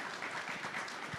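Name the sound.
audience applause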